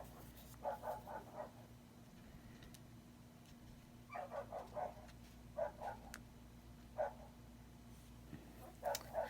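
A dog barks in short clustered bursts of two to four yaps, faint and somewhat distant indoors, separated by pauses over a steady low hum.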